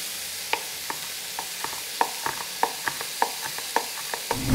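Onions frying in a pan for boeuf bourguignon, with a soft sizzle beneath a steady series of sharp clicks and scrapes from stirring, close and moderately loud, no talking.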